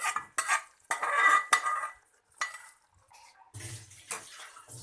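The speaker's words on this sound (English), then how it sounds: "Now I am going to transfer the cooked moong dal" Cooked moong dal is poured and scraped from a vessel into a pan, with a string of close clinks, wet slops and spoon scrapes coming in short bursts separated by near-silent gaps.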